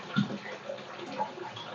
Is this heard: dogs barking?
no